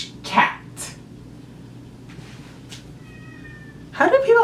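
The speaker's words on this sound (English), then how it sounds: "Would you shush, cat?" A house cat meows several times, loud and close, with a sharp cry near the start, fainter mews in the middle and another burst at the end, over quiet room noise.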